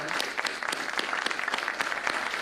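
An audience claps at a Pariksha Pe Charcha event, with dense, steady applause filling the room throughout, fairly loud and close with no speech.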